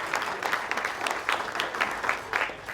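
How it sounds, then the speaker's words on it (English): An audience at a birding fair's opening keynotes applauds, with a dense, steady patter of clapping that swells in small waves, no voices on top. "Give him a round of applause"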